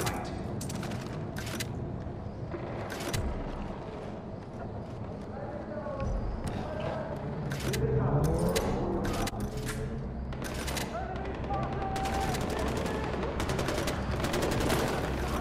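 Gunfire rings out in the Far Cry 4 video game as Pagan's men attack. Scattered shots and bursts crack at moderate distance amid game ambience, and voices talk over parts of it.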